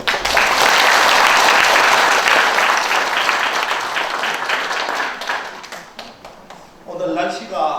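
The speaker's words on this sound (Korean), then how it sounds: "한 분 한 분 소개할 때 뜨거운 박수로 환영해 주시면 대단히 고맙겠습니다" Audience applause at a founding anniversary ceremony as a vice president is welcomed, loud full clapping that gradually thins out, followed by a voice speaking near the end.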